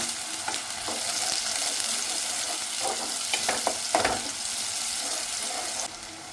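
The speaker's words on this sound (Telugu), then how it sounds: "ఈ ఆనియన్స్ గోల్డెన్ బ్రౌన్ కలర్ వరకు ఫ్రై చేసుకోవాలి" Two medium-sized chopped onions fry in hot oil, giving a steady close sizzle with several clicks of a spoon stirring the pan and no talk.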